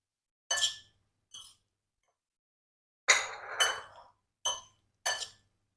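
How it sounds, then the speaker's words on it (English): Marinated paneer cubes mixed in a bowl for paneer tikka, a few sharp clinks and scrapes of utensil against the bowl in separate short bursts with quiet gaps, close and without talk. "Mix nicely the paneer"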